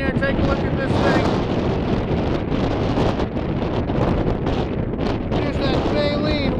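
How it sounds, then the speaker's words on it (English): Strong, freezing wind blows across a beach in Eastham where a whale has washed ashore, roaring continuously and buffeting the microphone loudly throughout with no letup. "It's wicked windy."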